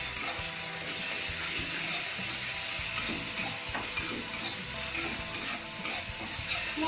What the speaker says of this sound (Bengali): মশলাটা তেল না ওঠা পর্যন্ত আমি নাড়তে থাকবো।